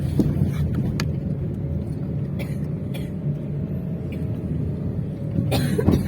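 A few sharp coughs break out, one near the start, others spread through the middle and a pair near the end, over a steady rumble of road vehicle noise.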